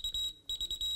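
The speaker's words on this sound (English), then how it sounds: "we have a warning sound, right, after 5 seconds." A Keysight U1241C handheld digital multimeter sounds a repeated high-pitched warning beep after a test lead is placed in the wrong current terminal: two bursts of short pulsed beeps separated by a brief gap, close and clear.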